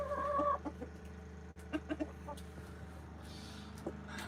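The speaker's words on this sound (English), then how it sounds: "Here, there's my chicken, if you guys can see." Backyard hens cluck in several short bursts at close range, the calls scattered unevenly across the moment over a steady low background hum.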